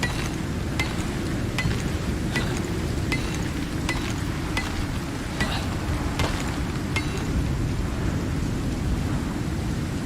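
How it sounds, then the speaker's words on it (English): Heavy, steady rainstorm in the survival game Icarus, a dense continuous hiss over a low rumble, with faint thunder cracks scattered throughout, loud and constant with no voices. "I'm gonna turn down the game audio a little bit because the storm's kind of loud. That noisy rain."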